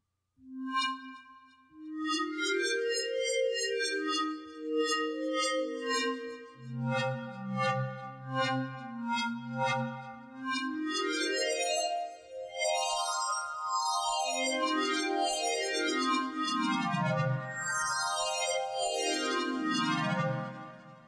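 Bright reversed bell tones from a Sytrus synthesizer swell in and glide through quick rising and falling pitch sweeps and chords, loud and continuous with no voices.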